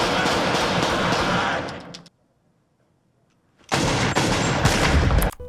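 A burst of rapid gunfire from the Pulp Fiction film scene where shots are sprayed at Jules and Vincent, all missing. Two dense, loud volleys are split by a stretch of near silence.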